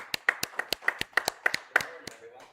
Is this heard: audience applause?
yes